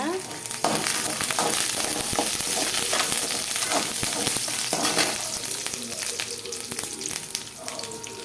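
Garlic cloves sizzle and crackle in hot oil with curry leaves for a ridge gourd chutney, a steady loud frying hiss with occasional stirring clinks and no talk.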